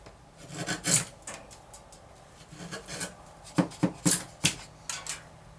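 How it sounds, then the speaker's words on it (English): A chisel, bevel down, pares a wooden guitar back brace, producing close, dry scraping and rasping strokes in irregular bursts, some sharper and louder near the end. "With my chisel, bevel down, I'm going to start at my line."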